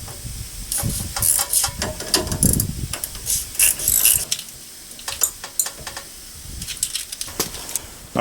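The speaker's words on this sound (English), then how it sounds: "we have to remove the sway bar end link, the 15mm wrench." A 15mm ratchet wrench works on the sway bar end link bolts of a Chevy Silverado during a leveling kit install, giving rapid metallic clicking in uneven bursts with clinks of tools and parts in between.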